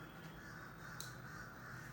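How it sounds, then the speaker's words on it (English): Crows caw outdoors during a quiet yoga session, a faint distant call standing out once over a soft, steady background. "Listening to the crows having their conference"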